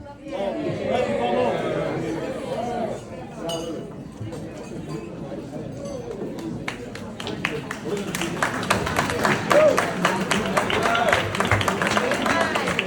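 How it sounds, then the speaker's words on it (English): Wedding guests break into applause after a speech, the clapping swelling and growing denser in the second half over steady chatter and talking voices in the room. "please keep that applause going for Vasiliki's good friend Sarah."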